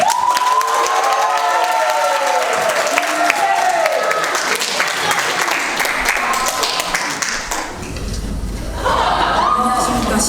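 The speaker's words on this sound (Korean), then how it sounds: "큰 박수 부탁드립니다" An audience at a student lecture contest gives a big round of applause for a middle-school presenter, dense sustained clapping with some cheering and laughter, loud and continuous before a voice begins.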